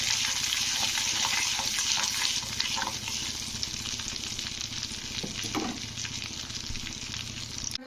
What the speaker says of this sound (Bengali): প্রথমেই যে আমি মেথি আর কালো জিরেটা গুঁড়ো করেছিলাম ওইগুলো এর মধ্যে দিয়ে দিলাম।